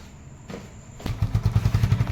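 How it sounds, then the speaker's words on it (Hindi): Motorcycle being taken out, its engine starting up after a couple of soft thumps and settling into a steady close idle with a rhythmic low putter. "हर्षु के पापा निकाल ले बाइक।"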